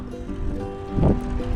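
Steady wind rumbles and buffets against the microphone while cycling at night, swelling into a stronger gust near the end over a faint hum.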